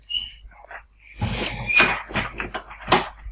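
A door swings and closes indoors with a few knocks and thumps of its latch, close by and fairly loud, in an otherwise quiet room.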